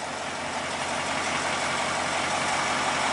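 A fire engine idles with 120 pounds of air, giving off a steady, even engine rumble at close range with a broad hiss and no voices.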